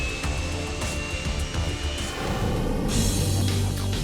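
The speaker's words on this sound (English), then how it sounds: "he warmed up for his home event by going head-to-head with a Boeing 777 down Auckland International Airport's runway" A Boeing 777 airliner on the runway at Auckland International Airport, a loud steady jet engine roar that swells toward the end, mixed with a racing car's engine noise, no voices.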